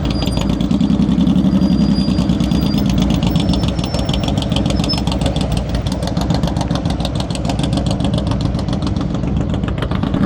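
A motorcycle engine runs steadily and loud at low revs during slow-speed riding skills practice, a constant close idle-like drone with slight throttle variation and no talk throughout.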